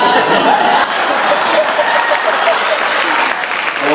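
Audience at a Tamil pattimandram debate stage event breaks into sustained, loud clapping that fills the hall, with a little laughter mixed in.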